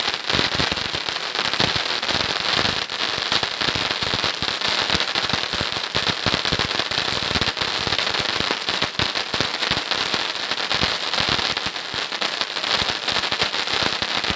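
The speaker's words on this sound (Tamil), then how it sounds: "ஸோ இது மேலே இருந்து வெடிக்கும் போது நல்லா பாப்கார்ன் டைப்பில் விழுகும்னு சொல்லியிருந்தாங்க." A crackling mania firework, a Sivakasi cracker, bursts overhead into dense popcorn-like crackles that fizz and snap continuously and loudly for the whole stretch, with no talking.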